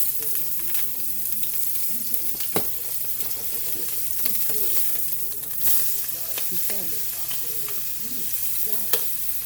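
A pound of jumbo shrimp frying in a pan, with a steady loud sizzle and occasional crackles and stirring scrapes throughout.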